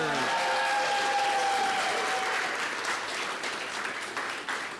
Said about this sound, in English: Round of applause for improvisers.